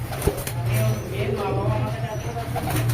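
Teddy and Jiria pigeons, including KTM Teddy birds, cooing steadily at close range in a low, continuous rolling murmur, with faint background noise throughout.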